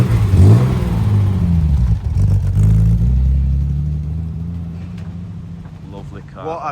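A Triumph TR6 engine with mechanical fuel injection revs up loudly, sounding rough, rising in pitch before settling into a lower drone, with people talking over it.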